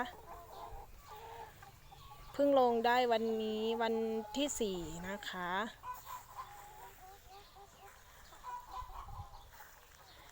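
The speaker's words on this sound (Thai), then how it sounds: "วันนี้นะคะจะมารีวิว ไก่ ไก่ไข่สาวนะคะ" Young laying hens, 17-week-old pullets, cluck in a loud, close burst of calls midway through, while someone talks over them before and after.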